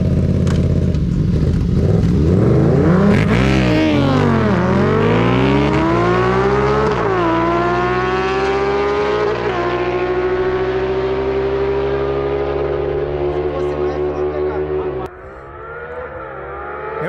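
Two motorcycles, a Honda Hornet and a Yamaha MT-07 with a fan-motor mod, race side by side in a street drag, engines revving loud and close with rising pitch through the gears before an abrupt drop near the end.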